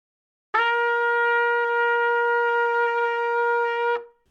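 A trumpet played too tight with restricted air holds one steady, slightly thin note for about three and a half seconds, close and alone, then stops cleanly.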